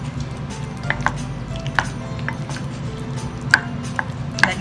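Gentle mixing of a batter-like mixture in a bowl, with soft scraping and scattered light clinks of a utensil against the bowl over steady background noise.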